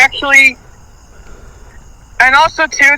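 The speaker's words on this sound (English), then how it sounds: "Southeastern field cricket" A Southeastern field cricket gives a thin, steady high trill, faint and distant in a nighttime neighborhood, while a person talks loudly close by at the start and end.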